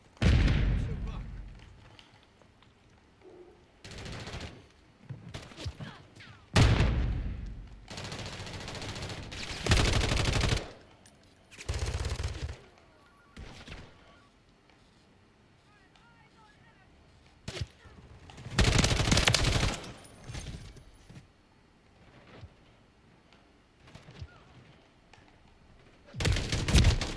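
RAM-7 assault rifle fire in Call of Duty Modern Warfare III, heard as repeated loud automatic bursts separated by quieter gaps, with in-game callouts and a speaker talking between volleys.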